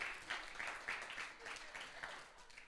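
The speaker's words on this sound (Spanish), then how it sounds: "¿por qué no damos un fuerte aplauso a Dios?" A church congregation at a Spanish-language service applauds faintly from a distance, the clapping steady with slight rhythmic surges throughout.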